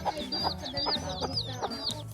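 A mother hen clucks softly and repeatedly as her chicks cheep high and close in a rural farmyard in Talakag, Bukidnon.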